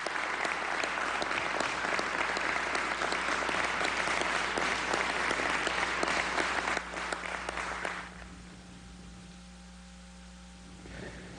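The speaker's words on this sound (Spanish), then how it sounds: "Yo pido un aplauso para nuestra Fuerza Armada Nacional Bolivariana." Loud, sustained applause from a crowd honouring Venezuela's Bolivarian National Armed Forces, a dense wash of clapping for about eight seconds before it drops away to a quiet room tone.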